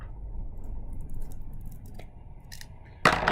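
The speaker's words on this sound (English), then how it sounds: "if you need some help with the scissors" Scissors snip through paper during a children's craft lesson, a soft crunching cut landing near the end after a stretch of low background rumble, close and fairly loud.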